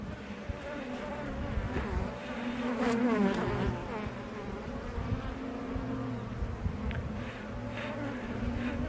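Honey bees crowd a heavy hive frame, their dense buzzing humming continuously up close, with brief louder individual buzzes passing near.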